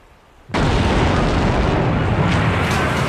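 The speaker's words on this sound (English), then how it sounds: "the battleship USS Maine exploded in Havana Harbor" A huge blast erupts after half a second of low rumble, standing in for the explosion of the battleship USS Maine in Havana Harbor in 1898. It holds as a loud, dense roar to the end.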